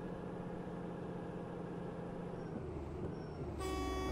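Heavy truck horn in the mobile game Truck Simulator Ultimate, a Mercedes-Benz rig, sounding as a loud sustained blare near the end over a steady engine drone.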